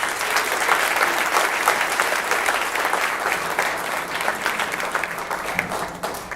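A reception crowd at a donor-recipient event claps continuously, a full, even burst of applause with no one speaking over it.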